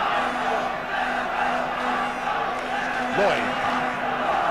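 Liverpool fans in the stadium at the 1971 FA Cup Final against Arsenal, a steady roar of crowd chanting and cheering at a distance, under a commentator's voice.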